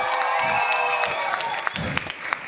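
A concert audience in Germany claps for the performer, dense and steady applause from many hands with a few louder individual claps, holding at a moderate level over faint low crowd murmur.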